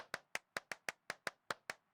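Hands clap in a steady run of ten sharp, evenly spaced claps, each one ringing briefly in the reverberant space of an abandoned church, with nothing else sounding.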